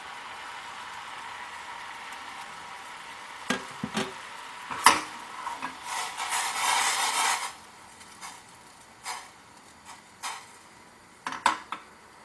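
Spoon clinking and scraping in a pan while tea powder, crushed ginger, cardamom and cinnamon powder are stirred together, giving scattered light metallic taps and scrapes at close range, quiet between strokes.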